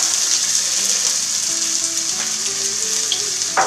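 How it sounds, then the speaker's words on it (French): Potatoes frying in a pan, a steady close sizzle and crackle of hot oil throughout, with occasional small pops and no voices. "Et puis on se retrouve pour la cuisson des pommes de terre."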